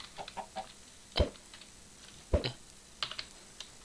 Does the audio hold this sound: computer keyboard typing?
yes